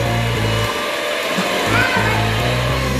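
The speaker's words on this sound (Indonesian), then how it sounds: "lalu kita mixer dengan kecepatan tinggi ini" An electric mixer beats 600 ml of cold milk at high speed, a loud steady whirring drone that continues without a break, close up and with a brief dip in the low hum partway through.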